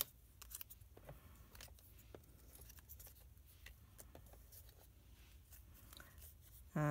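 Scissors cutting paper diagonally during card crafting, a quiet series of short, crisp snips in an irregular rhythm, close and faint, with no voices.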